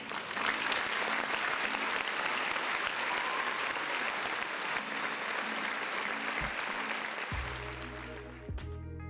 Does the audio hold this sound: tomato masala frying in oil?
no